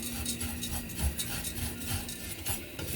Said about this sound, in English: you just got to kind of keep stirring it so they can all get color